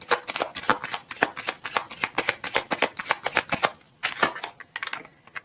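Tarot cards are shuffled by hand in a fast, continuous papery riffle that keeps going for several seconds, breaks off briefly, then resumes in a shorter burst before stopping.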